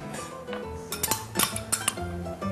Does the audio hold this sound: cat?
no